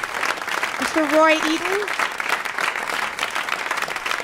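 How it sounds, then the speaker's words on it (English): Concert audience at a Scott Joplin 150th anniversary celebration applauding as performers return to the stage, a steady wash of clapping under a voice calling out a name, with a brief sung or whooped tone rising partway through. "Big round of applause."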